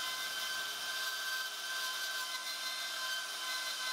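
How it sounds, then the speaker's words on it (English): A bandsaw trims excess metal from a miniature locomotive horn plate, giving a steady, continuous high-pitched cutting whine at moderate level with no talk. "Trimming off the excess material on the bandsaw."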